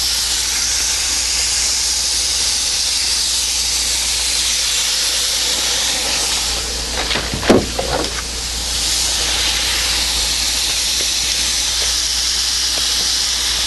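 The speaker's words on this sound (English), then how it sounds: "All right, let's get to grilling." Marinated food on a hot RV grill sizzling: a loud, steady broadband hiss throughout, with a short metallic clank and rattle midway before the even sizzle resumes.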